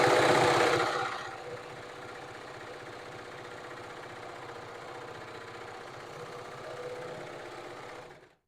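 Serger overlocker stitching stretchy rib knit fabric, a close, fast, steady mechanical whir running for several seconds after a louder burst at the start, then stopping.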